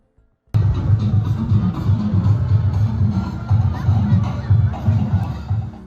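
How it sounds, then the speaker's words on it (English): Crowds of families cheer at the Waukesha Christmas parade, a loud, steady wash of shouting children and cheering that starts abruptly after a moment of silence. "crowds of families were cheering on the parade"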